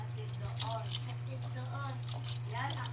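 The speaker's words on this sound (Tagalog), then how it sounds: "magdagdag lang tayo ng tubig guys. Para sa sabaw." Water is poured into a cooking pot for sinigang broth, a continuous burbling splash and trickle heard close up under a steady low hum, while a person talks over it.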